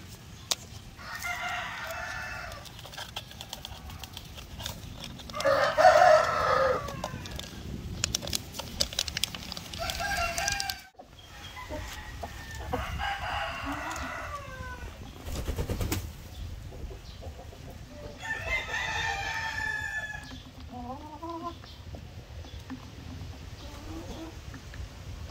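Chickens cluck and call intermittently at moderate distance on a farm, with a rooster-like crow and scattered rustling in the background, as a dewormer is poured into their water.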